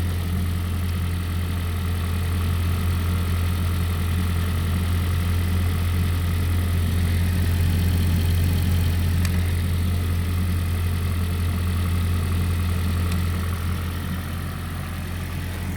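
Honda Shuttle engine idles steadily during injector cleaning while waiting for the thermostat to open, a loud continuous low hum with a constant drone close by.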